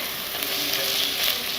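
Biryani masala with coriander, mint and yogurt stirred in a hot pan, a steady close sizzle with soft scraping throughout and no voices.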